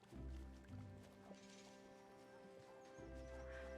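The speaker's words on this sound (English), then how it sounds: "the horses clomping around." Horses clomp around a ranch in a video game, steady hoof clip-clops near and fairly loud at the start and end, with a whinny and light watery drips in between, no talk.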